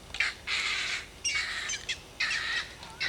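Wild birds calling outdoors, with crows giving three harsh, drawn-out caws in quick succession, fairly near and clear against a quiet background.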